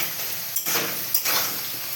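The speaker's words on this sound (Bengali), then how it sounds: "নাড়তে নাড়তে আলুগুলোকে আর্ধেক সিদ্ধ করে দেবো" Potato pieces fry in oil in a pan for chana masala, a steady soft sizzle broken by two quick scraping clinks of a spoon stirring them, close and alone without talk.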